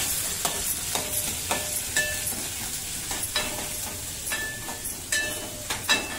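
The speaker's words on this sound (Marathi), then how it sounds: "बघा तेल गरम झालंय. मी अद्रक टाकलेलं आहे, लसूण, मिरची असं मस्त म्हणजे सॉटे करून घ्यायचं आहे." Ginger, garlic and green chili sauté in hot oil for a vegetable Manchow soup, giving a steady close sizzle broken by repeated scraping strokes of a spoon against the pan.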